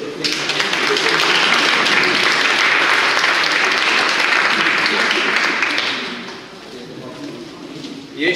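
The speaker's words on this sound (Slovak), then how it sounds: "Klobúk dole, potlesk pre vás a pre vás tiež" Audience applause in a rhetoric and negotiation training session, a loud, dense burst of clapping held steadily for about six seconds before quickly fading to a few scattered claps and a soft thud at the end.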